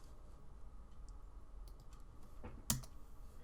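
Computer keyboard keys pressed during 3D modelling work, including a return key hit: faint scattered light clicks, then one sharper, louder keystroke near the end, with no talking.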